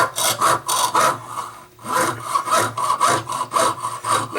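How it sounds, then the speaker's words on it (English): Jeweler's saw cuts metal held on a wooden bench pin, a loud, close rhythmic rasp of repeated back-and-forth strokes with a brief pause midway, no talking. "let the saw do the work without you're sawing into the wood bench pin"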